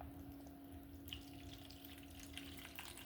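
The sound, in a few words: water being poured into a detox drink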